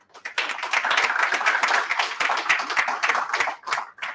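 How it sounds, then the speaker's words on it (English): Small meetup audience at a Sydney serverless event applauds Nelly, a steady patter of many close hand claps lasting about four seconds and tapering off at the end. "round of applause for Nelly"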